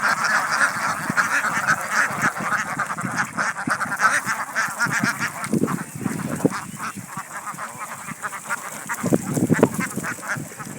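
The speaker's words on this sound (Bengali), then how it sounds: "খুব সুন্দর হাঁস।" A mixed flock of ducks on a duck farm quacking continuously, many overlapping honking calls close by with no talk.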